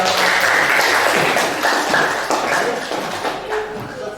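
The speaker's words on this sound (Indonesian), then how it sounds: "terima kasih, diberi aplaus juga ya" An audience in a classroom discussion session claps steadily for about four seconds. The applause is close and fairly loud, with a brief voice mixed in.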